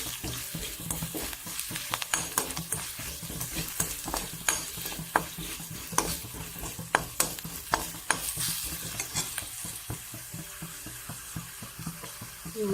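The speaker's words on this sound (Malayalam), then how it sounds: "മഞ്ഞൾപ്പൊടി എണ്ണയിലൊന്ന് മൂത്ത് കിട്ടണം" Turmeric powder frying in hot oil in a pan, with a soft continuous sizzle and frequent sharp clicks and scrapes from a spoon stirring, close and alone.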